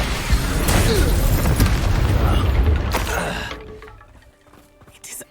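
An Expulso explosion spell in Hogwarts Legacy booms loud and near, with a burst of crackling debris that fades into a quieter tail, while a few faint clicks and game sounds follow.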